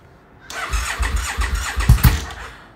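A 2007 Triumph America motorcycle with cocktail shaker exhausts cold-starts in winter after sitting two weeks, cranking briefly before the engine catches into a rough, uneven rumble that fades, close by with no talking.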